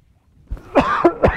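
A few sharp coughs close to the mic, one rougher burst followed by two quicker ones in succession, with no talking.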